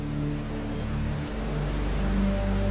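Rain falling steadily as a constant, dense hiss that stays even from start to finish, with low sustained tones running underneath.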